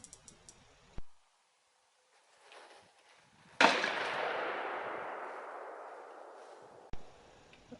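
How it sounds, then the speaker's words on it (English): An Air Arms S510 XS Ultimate Sporter .22 air rifle set to high power fires one sharp, loud shot that decays slowly, with fainter clicks and thumps before and after, outdoors at a 100-yard range. "All these shots were taken with a rifle on high power"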